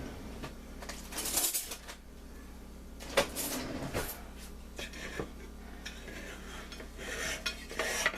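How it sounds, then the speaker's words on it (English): A knife works a German chocolate cake loose from its baking pan: scraping and clinking of metal against the pan come in a few short, uneven bursts close by, with no talk. "I think I need a knife to get that out of there."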